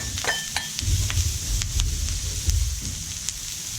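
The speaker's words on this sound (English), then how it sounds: "now we're going to cook the onions" Sliced onions cooking in a pan for paella with a low, steady sizzle and occasional soft scrapes and taps of a utensil, heard close with no talking.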